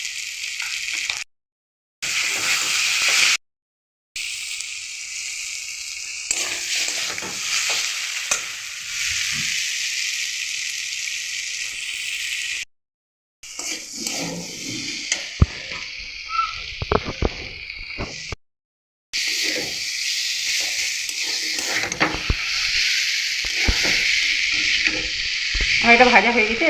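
Vegetables, including potatoes, frying in a pan give a continuous close hissing sizzle, with several brief silent gaps and a few clinks and scrapes of stirring.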